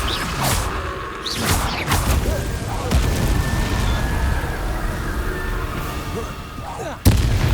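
Confringo fire spells burst in Hogwarts Legacy combat as loud, repeated explosive booms and crackling blasts over a dense, busy game soundscape, ending with one sharp hit.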